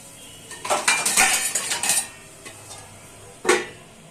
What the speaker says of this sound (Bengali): এবার এটাকে আমি ঢাকা দিয়ে দেবো।